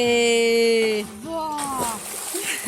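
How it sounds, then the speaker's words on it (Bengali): Splashing into a village pond as people jump in one after another, with a wet rush of water in the second half under loud, excited shouting voices nearby. "এই দেখো দেখো দেখো, পুকুরে ঝাঁপ মারা শুরু করে দিয়েছে।"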